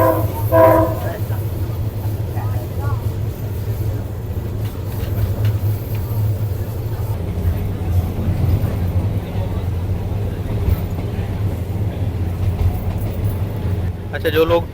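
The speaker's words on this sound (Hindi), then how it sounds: "ये छोटी सी ट्रेन है जिसके ऊपर हम लोग बैठ गए हैं।" A small four-carriage train runs through the Mae Klong Railway Market in Thailand, heard from on board as a steady rumble of wheels and carriages. A horn sounds at the start, and people talk over the noise.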